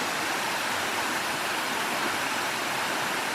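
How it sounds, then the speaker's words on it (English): Steady, broad rushing roar of a waterfall outside Pennsylvania, constant and fairly loud with no breaks, heard alone without voices. "I love the waterfall too."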